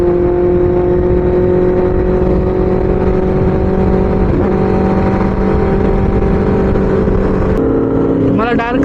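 A Benelli motorcycle engine drones steadily and loud while riding, with a constant harmonic hum throughout and a brief rise near the end, joined by a voice over the last second.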